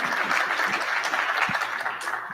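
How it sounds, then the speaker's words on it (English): An audience claps at a European innovation showcase event, a steady, full round of applause at moderate volume with no voices over it. "let's give them a round of applause"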